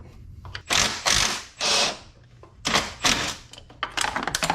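Mechanical work on a Can-Am front differential, with a wrench turning a 15 mm nut while removing the unit: loud, close bursts of rasping, clattering metal in uneven spurts, with no talking.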